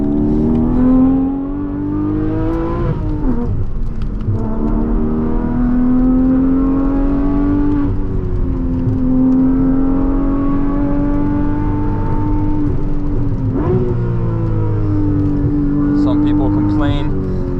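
A 2022 Porsche Boxster GTS 4.0 flat-six revving hard through the gears on a road sprint, loud rising engine notes with brief dips at each gearchange, heard close and continuous.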